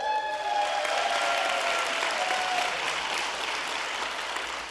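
Audience applause fills a swearing-in ceremony for a county Board of Supervisors executive officer, a steady, dense wash of many hands clapping at close range, sustained throughout without a break.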